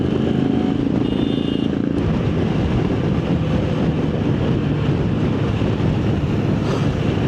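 A carburetor-converted motorcycle on a group ride, its engine drone steady and loud under heavy wind rush, a few faint tones breaking through.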